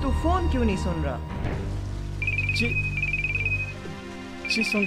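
A telephone rings in repeated electronic trills, two bursts in a row and a third starting, over a low background hum and earlier voices.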